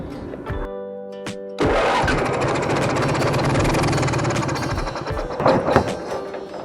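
Onan 4k generator in a 1989 Winnebago, a brief cranking attempt that then catches into a steady, loud mechanical running drone, close by and continuous, with a few knocks near the end.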